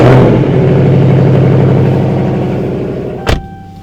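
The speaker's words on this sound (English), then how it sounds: "I'm gonna give y'all this cold start." A Dodge Charger engine on a cold start runs with a loud, steady, deep rumble that eases slightly as it settles. A sharp thump sounds near the end.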